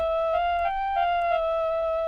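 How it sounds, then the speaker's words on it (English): A synthetic clarinet-like tone from the Mellowsound iPad app sustains one steady reedy note with faint soft pulses, evenly held for about two seconds. "We have clarinet."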